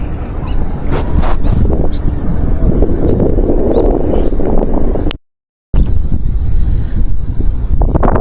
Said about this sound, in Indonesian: Anginnya kencang kali